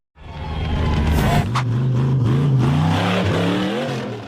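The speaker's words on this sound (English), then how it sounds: "The buggy struggled to climb the steep dirt slope, determined to conquer the challenge." Off-road buggy clawing up a steep dirt slope, its engine revving hard and loud close by, pitch rising and wavering under strain, with a sharp burst of gravelly noise midway and a fade at the end.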